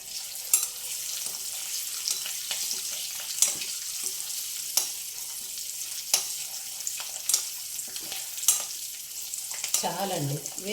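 Food for a tomato egg curry fries in a pan with a light, continuous sizzle, broken by regular sharp clicks of stirring, close and without talk.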